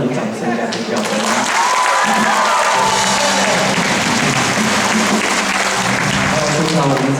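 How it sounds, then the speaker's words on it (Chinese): A concert audience applauds and cheers for the band, dense continuous clapping with scattered screams and shouts, loud and full throughout. "乐队老师也很辛苦啊，这件事也要点掌声加尖叫声"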